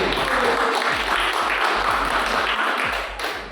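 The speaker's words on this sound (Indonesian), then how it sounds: "Oke, aplaus untuk kelompok pro." Audience applause for the pro team at a classroom sociology-of-law debate, a dense steady patter of many hands clapping close by, with faint voices mixed in and a slight fade near the end.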